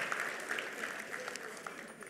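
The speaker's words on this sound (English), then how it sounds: "Let's have another applause for our folks that are going out on short term." A church congregation applauds its short-term mission trip team, a brief even wash of many hands clapping at moderate distance.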